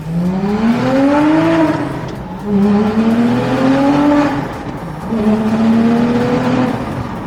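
A naturally aspirated car engine revs hard three times in succession, each pull rising smoothly in pitch before easing off, loud and close with no talking.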